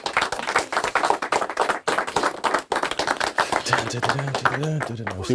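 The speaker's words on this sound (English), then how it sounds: "Clap it up one time for my guy, Mixed by Boogie, please." A small group claps in a room for a music mixing engineer at a recording session, with sharp uneven hand claps throughout. A voice starts talking over them near the end.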